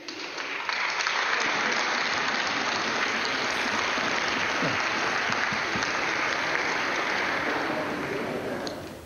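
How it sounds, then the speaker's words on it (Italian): Sustained applause fills the Italian Chamber of Deputies, a dense, steady wash of clapping from many hands that holds evenly throughout with no voices over it. "applausi della Camera"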